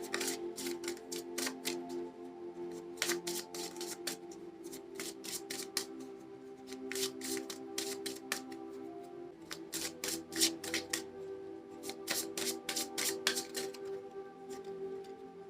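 Tarot cards being shuffled and drawn, crisp riffles arriving in rapid clusters separated by brief gaps, close and moderately quiet with no talking.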